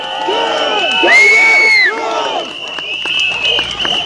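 A crowd at a pro-European march in Batumi cheers and whoops loudly, with several shouted and sung voices rising and falling close by over about four seconds.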